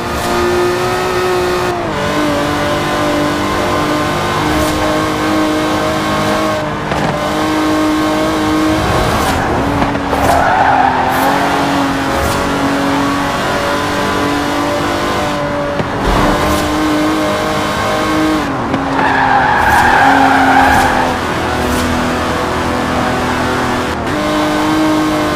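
A 1960s Aston Martin DB5 Vantage with side-draft carburettors racing in Forza Horizon 4, its engine loud and continuous as it revs hard through repeated gear shifts, with brief rises and dips in pitch.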